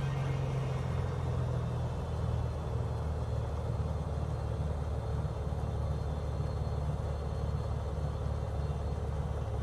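A simulated airplane waits on runway 26 for takeoff in Microsoft Flight Simulator 2020, set in Israel. Its engine gives a steady, loud, low rumble with a constant drone throughout, and no voices are heard.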